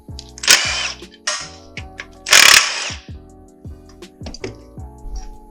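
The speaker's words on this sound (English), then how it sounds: "Next we'll get the little bracket for our shift cable off. That's a T40, there's two of them." Two T40 Torx bolts are worked loose from the shift cable bracket on a 1997 GMC K-series 4L60E transmission, with ratchet clicks and metal taps in short, close bursts punctuated by two loud rattling runs.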